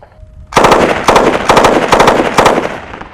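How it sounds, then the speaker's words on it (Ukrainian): Machine gun chambered in NATO-standard small infantry calibre, firing five loud, close bursts in quick succession, each a rapid crackling string of shots with short gaps between, with no speech over it. "Даний кулемет виготовляється для армії США, виготовлений е, малий піхотний калібр."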